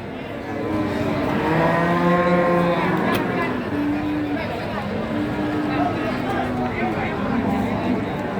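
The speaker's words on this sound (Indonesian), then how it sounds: "Untuk susunnya bagus sapi ini." Cattle moo in short low calls at a busy livestock market, several calls in a row under a steady murmur of crowd noise and nearby talk.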